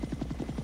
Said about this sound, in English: Attack choppers.